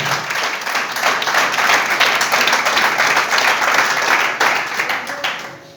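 Loud, dense audience applause with many hands clapping together, holding steady for several seconds before tapering off at the end.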